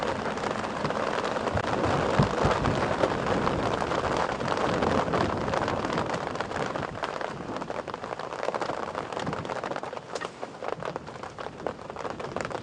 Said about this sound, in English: I've got too much noise from the rain.